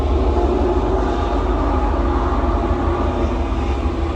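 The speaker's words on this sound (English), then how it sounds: "there is a train going by right now" A train rumbles past close by, a loud, continuous low roar and rattle of rail cars that holds steady throughout with no break.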